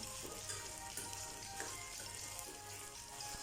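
Green peppercorns sautéing in sesame oil, a steady close sizzle and crackle with occasional stirring pops, continuous and even throughout.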